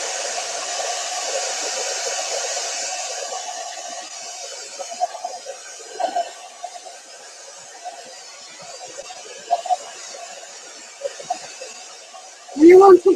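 A hair dryer blows close and loud at first to dry a mixed media door hanger, then quiets to a softer whoosh while a person talks over it, ending in a brief loud burst.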